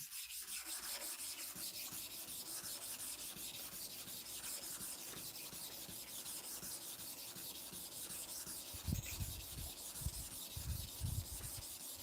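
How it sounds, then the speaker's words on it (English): Knife blade rubbed back and forth on a hard manual sharpening stone, a continuous faint gritty rub under a steady background hiss, with a few louder scraping strokes near the end. No speech. "you cover the down part of it again to make sure all your movements cover the inner surface of the stone you want to activate, sharpen"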